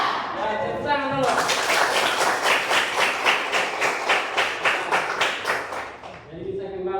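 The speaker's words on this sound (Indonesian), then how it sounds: "Ya, tepuk tangan dulu." An Indonesian classroom of students claps together in a quick, rhythmic burst lasting several seconds, with brief voices just before and after.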